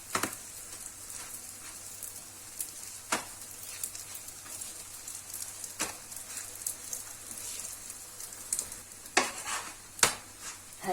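Msemen, a folded Moroccan flatbread, fries in a pan with a steady low sizzle, punctuated by a few sharp clinks and scrapes of a utensil against the pan; no one talks.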